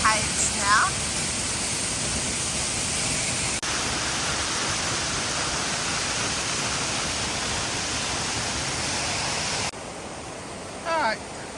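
Water pours steadily over the cascades at Snob Falls, a constant broadband rushing roar filling the scene, with brief faint chirps at the start and end.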